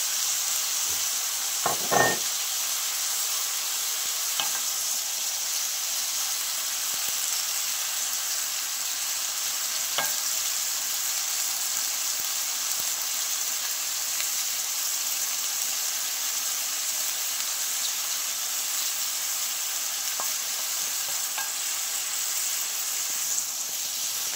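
Chopped tomatoes fry with bottle gourd for louki sabzi, giving a steady close sizzle with a few sharp stirring clicks near the start, alone with no talk.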